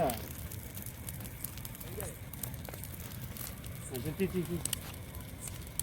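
A Bhogi festival bonfire, with Nellore palm sprouts roasting in it, burns with a dense, steady crackle and rustle up close. Scattered muffled voices rise over it near the end.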